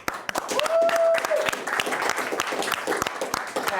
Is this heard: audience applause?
yes